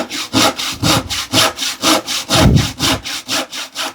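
Dovetail saw cutting through wood in a steady back-and-forth rhythm, about a dozen close, loud strokes with no talking.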